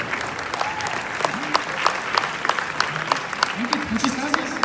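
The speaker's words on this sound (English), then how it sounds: "Give her a round of applause." Workshop audience applauding, a sustained round of many hands clapping at steady volume for several seconds, with a few sharper individual claps and faint voices mixed in beneath.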